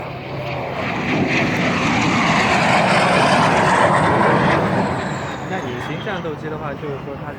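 A propeller airplane flies past at the Wings Over Wayne air show in Goldsboro, North Carolina, its engine drone swelling to a loud, close peak and then fading, while an announcer talks over a public address system.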